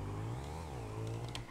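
A motorcycle engine revs steadily up close, a low droning tone rising and falling in pitch for under two seconds, with no talk over it.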